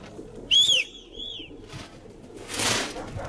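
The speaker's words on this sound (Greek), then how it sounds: "Έβαλε ένα ντουμάνι περιστέρια" Pigeons in Santorini burst into flight with a loud, nearby call and a couple of softer calls, followed by a rush of flapping wings.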